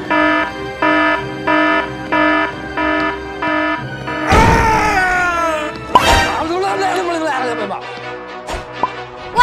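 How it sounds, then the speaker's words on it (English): An alarm system in a Roblox escape game goes off in an office, sounding as a repeated pulsing electronic tone, about six evenly spaced beeps, then broken up by loud crashes and a shouting voice over the end. "An alarm system!"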